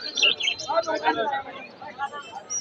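Pigeons at the Hemayetpur pigeon market chirp and coo close by in quick, busy bursts over a murmur of crowd noise.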